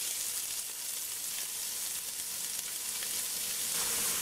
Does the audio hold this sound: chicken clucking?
no